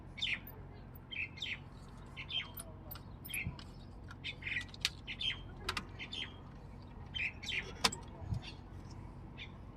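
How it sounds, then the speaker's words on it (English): Small birds chirp and squawk in scattered, overlapping bursts, fairly faint, over a quiet outdoor background with a passing car hum. "Them little birds won't shut up. You hear the birds?"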